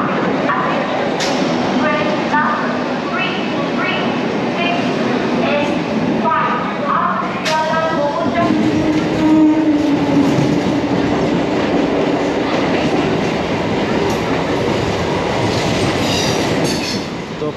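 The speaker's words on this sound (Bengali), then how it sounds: "শিয়ালদাতে ট্রেন ঢুকছে, তোমরা দেখতেই পাচ্ছ।" A train pulls into Sealdah station with loud, steady rail rumble and clickety-clack from the wagons, a brief squeal of wheels, and faint voices in the background.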